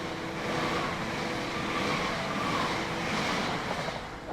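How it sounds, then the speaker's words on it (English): A train rumbles past steadily, a broad continuous roar with faint rhythmic clatter, fairly close and with no talking. "you're going to be clear of this train on the other line"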